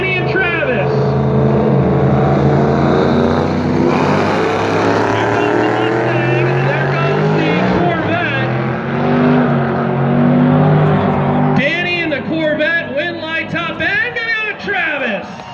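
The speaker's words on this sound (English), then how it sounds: "Travis, how about 167 miles an hour in that Mustang?" Corvette and Mustang drag racing in a rear-wheel-drive final round, engines roaring loudly at full throttle and fading as the cars run, with an announcer talking throughout.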